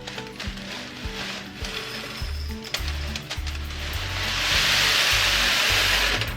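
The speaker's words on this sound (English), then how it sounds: "use them as funnels to get your granola into storage containers" Granola is poured through foil funnels into storage containers, giving a close, dry rattling and rustling with irregular clicks that swell into a denser hiss of pouring toward the end.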